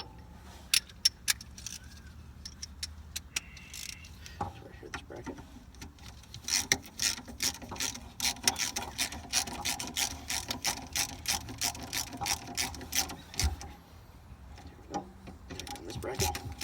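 A ratchet with an extension tightens the bracket bolts on a 1995 Honda Civic: bursts of rapid clicking, near and sharp, with some clinking of tools and brief pauses between runs.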